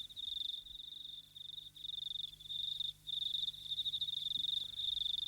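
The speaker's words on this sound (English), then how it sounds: "When bush crickets mate," A bush cricket chirps in long, rapid trilling bursts with short gaps between them, loud and close over a quiet low hum.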